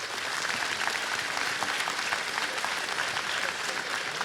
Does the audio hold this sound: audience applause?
yes